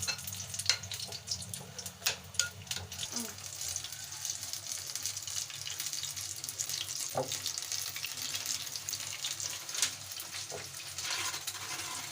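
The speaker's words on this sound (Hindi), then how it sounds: "बेसन में डिप करेंगे ऐसे कर, और डीप फ्राई करेंगे।" Cauliflower florets dipped in gram flour batter deep fry in hot oil, giving a steady close sizzle with a few soft clicks and light splashes over it and no talking.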